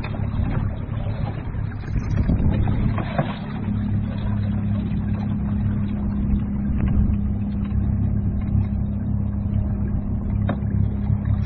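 A steady low motor drone runs throughout, a small boat's motor, running on a LiTime 12V 100Ah LiFePO4 lithium battery, churning along at constant speed into the wind with broadband water and wind noise on top.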